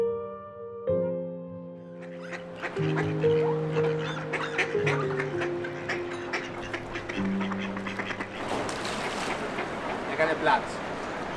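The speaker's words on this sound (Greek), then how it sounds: "πάπιες" Ducks quack outdoors in Prague, the calls mixed with steady tonal background sounds and nearby voices, growing busier and noisier toward the end.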